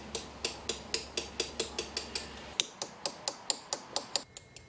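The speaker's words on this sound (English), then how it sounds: "As the mallet hits the gold, a sharp clang penetrates the air." An artisan at a narrow workbench strikes gold with a mallet, a quick, evenly spaced run of about seventeen sharp metallic clinks, each crisp and short with a slight ring, fairly soft and close, with no speech.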